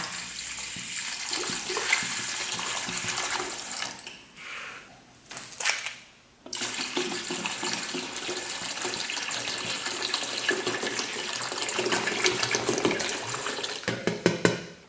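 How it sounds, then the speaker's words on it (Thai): Clean water pours steadily into a large pot for liquid hand soap making, a continuous close splashing rush with a brief break in the middle, no voices. "เราก็จะเตรียมน้ำสะอาด 2 กิโลนะคะ ก็ใส่ลงไปเลยนะคะ"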